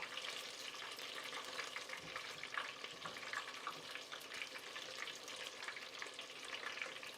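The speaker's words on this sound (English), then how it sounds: "I'm going to turn this onion over" French-fried onion rings sizzle steadily in a pan of hot oil as they are turned, a soft, continuous crackling hiss with faint scraping, quiet and without speech.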